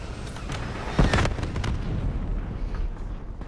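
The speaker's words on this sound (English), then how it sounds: "Hostile hellstorm inbound." A Hellstorm missile strike in a Call of Duty match lands as a heavy close explosion with a sharp burst, followed by a rumbling, fading roar of debris.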